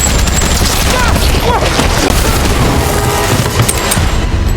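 Loud, chaotic bursts of gunfire in rapid succession, dense and close, with voices faintly mixed in.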